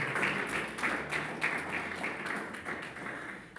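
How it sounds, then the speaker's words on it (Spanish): A church congregation claps after a Spanish-language sermon reading, a moderately faint, even patter of many hands with some sharper individual claps, steady for a few seconds before easing slightly. "Dale un fuerte aplauso a la palabra del Señor"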